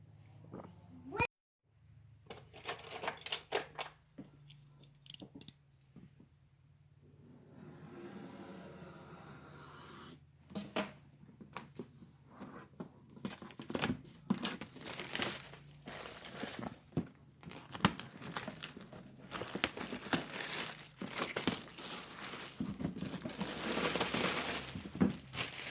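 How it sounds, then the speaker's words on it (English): Plastic wrap being peeled and torn off a Tamiya Midnight Pumpkin kit box, close crinkling and crackling in uneven bursts, with a brief quiet gap early on and a faint voice underneath. "It's still got the little plastic packaging on it."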